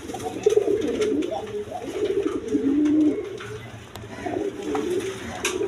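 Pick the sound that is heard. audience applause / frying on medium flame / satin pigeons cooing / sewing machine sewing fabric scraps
satin pigeons cooing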